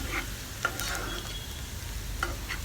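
Onion, cumin and broken red chillies frying in a pan for kadhi, a steady low sizzle throughout with a few faint clinks of stirring, close and fairly quiet, no voices.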